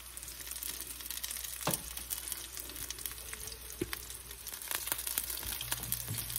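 Gyoza dumplings fry in a thin film of grease with a steady, close sizzle and occasional sharp crackles and pops.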